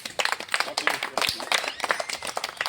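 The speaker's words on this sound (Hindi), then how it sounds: "आप लोग ताली बजाते रहे बच्चे" Children and a small gathering clap irregularly at an outdoor memorial anniversary event in Mau, the uneven claps running steadily throughout with voices talking over them.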